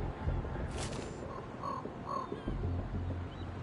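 A single crow caws a few times at moderate distance in Sniper Ghost Warrior Contracts, the short harsh calls set over a constant outdoor ambient bed, with no speech.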